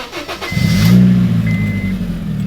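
A Honda Fit's starter cranks briefly, then the engine catches with a loud rev and settles into a deep, throaty rumble through a custom exhaust close by.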